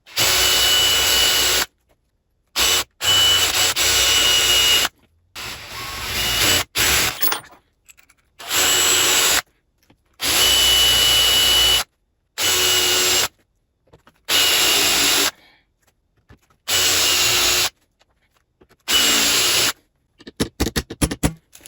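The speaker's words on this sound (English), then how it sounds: "What I might have to do is drill these out." A power drill whirs in repeated bursts of a few seconds each, separated by short pauses, grinding steadily through metal pins of an AK parts kit close by.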